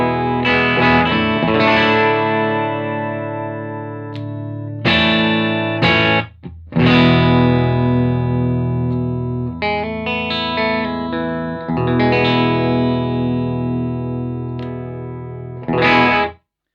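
Electric guitar played through an Audio Kitchen Small Trees tube buffer pedal straight into an amplifier, with full sustained chords and single notes ringing loud and clear, a few brief pauses between phrases.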